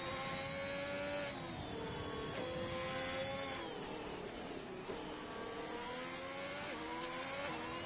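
A race car engine on an on-board lap of Zandvoort in a racing video game, revving loudly and continuously, its pitch climbing and dropping through repeated gear shifts.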